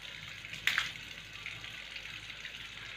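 Water splashed gently onto the face during wudu ablution, one soft splash early on followed by trickling and running water over a low steady background hum.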